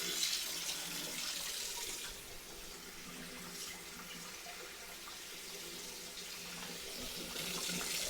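Hot water runs steadily from a tap into a sink in a kitchen, a close, continuous hiss and splash lasting throughout with no voices.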